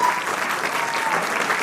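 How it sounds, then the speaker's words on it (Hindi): An audience applauds at a talk, dense sustained clapping from many hands filling the whole moment at an even level. "तालियां बजानी तो आप अच्छे से बजा सकते हैं, कोई बात नहीं।"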